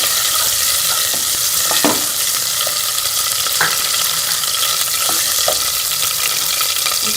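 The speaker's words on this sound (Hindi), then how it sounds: "अब इसमें ये लहसुन अदरक का पेस्ट शामिल कर लेंगे। इसे 1 मिनट के लिए फ्राई होने देंगे।" Garlic ginger paste frying in ghee, a dense, loud, steady sizzle with a few scraping stirs of a spoon, heard close up without any speech.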